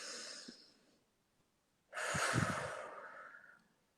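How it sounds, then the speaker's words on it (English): A person takes a deep breath, a short exhale first, then a long, close, audible inhale-exhale lasting nearly two seconds, with no talking. "take a deep breath for me"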